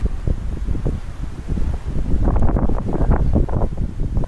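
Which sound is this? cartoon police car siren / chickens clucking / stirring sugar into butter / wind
wind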